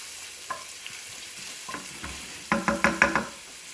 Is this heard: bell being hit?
no